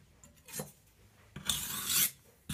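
A kitchen knife drawn across a fine grit sharpening stone gives two rasping strokes, a short quiet scrape and then a longer, louder, bright hiss, close by with no voices.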